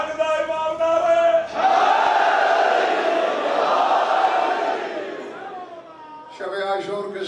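A large congregation at a Shab-e-Ashur majlis roars a religious slogan in unison, a loud sustained collective shout of several seconds, framed by someone speaker's voice leading before and after it.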